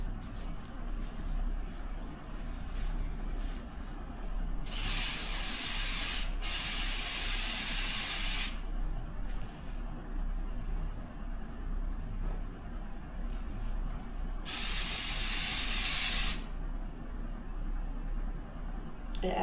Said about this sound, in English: So let me spray my clothes first.